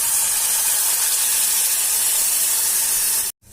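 Tamarind juice poured into a hot spiced oil tempering for Bellary tili saaru sends up a loud, continuous steamy hiss that holds evenly and then cuts off abruptly, with no voices.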